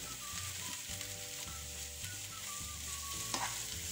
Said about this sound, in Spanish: lo sofreímos unos minutos junto con la cebolla